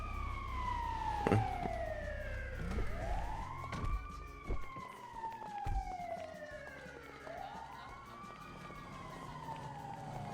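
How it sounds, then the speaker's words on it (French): A video-game ambulance siren wails in rising and falling sweeps over traffic rumble and scattered knocks, moderately close, with a single brief spoken word. "Ambulance."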